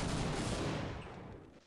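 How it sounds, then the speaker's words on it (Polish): Explosion in Half-Life, a loud broad blast with a rumbling tail that fades over a second or so, heard alone. "Od razu wszystko wybucha."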